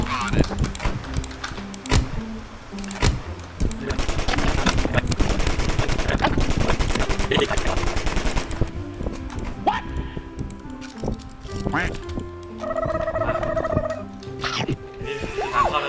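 Rapid gunfire bursts from a Roblox game ring out loudly, with dense repeated shots in the first half and scattered pops later, mixed with background game music and effects.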